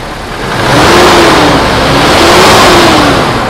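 A 2005 Toyota Innova engine, freshly overhauled, revs up from idle and holds a loud, close, steady mid-pitched drone with slight rises and falls in speed.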